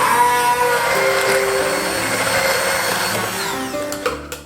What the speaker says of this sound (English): Blend the strawberries well.